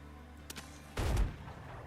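A couple of gunshots ring out in the pirate adventure game Windrose, a faint crack followed by a louder, heavier blast with a short rumbling tail, no talk.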